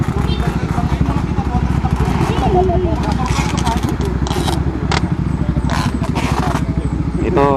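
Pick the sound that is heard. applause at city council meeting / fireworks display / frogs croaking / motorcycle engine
motorcycle engine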